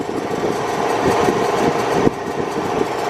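A Porsche 991 GT3 with Dundon Motorsports headers and side muffler delete running on a dyno, a steady high-pitched engine drone at fairly constant revs, loud and close, with a sharp knock midway.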